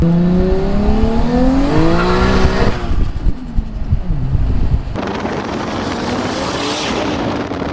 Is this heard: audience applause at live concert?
no